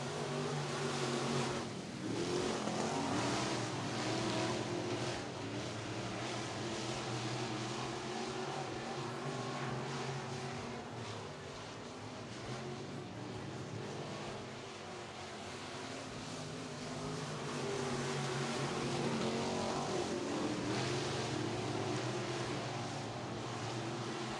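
Race cars on a dirt oval pull away after a caution period, a dense, steady roar of several engines at full throttle sustained throughout with slight swells, no voices on top.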